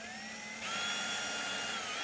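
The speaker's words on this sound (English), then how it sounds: "Let's get it kind of snug, then we'll drill that hole." A high, steady power-tool whine starts partway in and keeps running close up, a drill boring a 7/64 hole with a bright, sustained pitch while installing an IKEA cabinet top.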